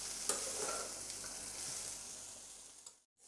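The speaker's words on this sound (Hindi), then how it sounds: "भिंडी को 1 मिनट हम भून लेंगे।" Okra sizzles and is stirred in a hot pan, an even frying hiss with a few scraping clicks that ends in a brief moment of silence.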